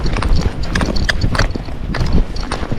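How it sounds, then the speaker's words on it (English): Hooves of a gaited Marchador cross horse cantering, with a steady, close, fairly loud clip-clop rhythm of repeated beats and no talk. "So now we're cantering."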